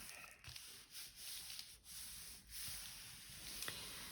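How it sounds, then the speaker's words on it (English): A paper envelope fold is burnished flat with soft, dry rubbing passes, a few separate strokes against a quiet room, close and fairly faint. "I'm just going to burnish that down"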